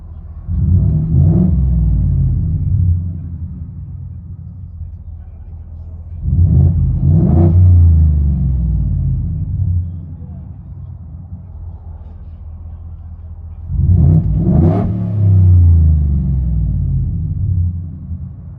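Muffled rumble of a 2025 Ford F-150 5.0L V8 with a Dynomax Race Bullet exhaust heard from inside the cab, with three distinct rev-ups spaced several seconds apart, deep and steady between each.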